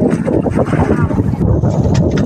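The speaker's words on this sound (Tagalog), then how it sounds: "Medyo lumalakas na po ang hangin." Wind gusts across a small fishing boat at sea while fishing for apahap, a steady, muffled rushing roar buffeting the microphone, with faint indistinct voices in the background.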